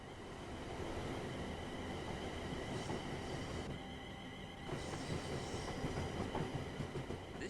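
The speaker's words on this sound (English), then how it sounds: "train is a Class 350/1 electric multiple unit manufactured between 2004 and 2014 and is part of the Desiro family." A Class 350/1 Desiro electric multiple unit runs steadily on the West Coast Main Line in a train simulator game, giving a continuous loud rolling rumble with faint rhythmic wheel clatter and occasional squeal throughout.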